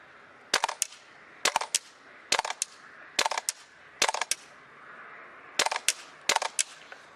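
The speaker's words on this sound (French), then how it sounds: "on se retrouve pour le test de tir donc du G39C WE" A WE G39C gas blowback airsoft rifle fires semi-automatic test shots, sharp close cracks in small clusters of two or three with short pauses between, in a quiet setting.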